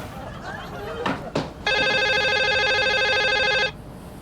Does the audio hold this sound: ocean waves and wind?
no